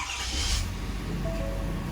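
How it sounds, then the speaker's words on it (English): A 2024 Ford F-250 diesel engine cranks and fires up, with a brief burst of starter noise settling into a steady, close, low diesel rumble. "So we'll go ahead and we will crank it up now."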